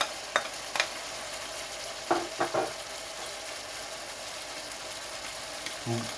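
Aloo keema with tomatoes stirred in a cooking pot: a few sharp scrapes and clacks of the spoon over a soft, continuous sizzle, with a low voice briefly in the background.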